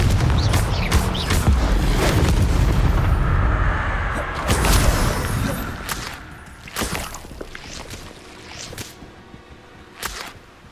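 Explosion spells from the Hogwarts Legacy video game burst in quick succession during combat, heavy booming blasts and whip-like cracks layered over a dense rumbling battle din that gradually thins out into scattered sharp impacts.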